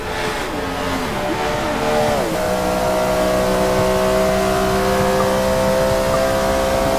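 Race cars, an Audi among them, accelerate on track with a loud, continuous engine drone whose pitch sweeps downward early on and then holds a steady high whine; no talk is heard.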